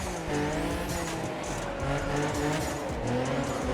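Honda with a V6 turbo JDM engine sound in The Crew Motorfest drives hard, its steady engine drone layered with tire squeal and skidding, loud and close throughout with no talking.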